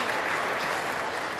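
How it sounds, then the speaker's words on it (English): Spectators on the team bench at a curling match applaud and cheer together in a short, steady burst of clapping with a light crowd murmur. "There they are, cheering on the Scots out here."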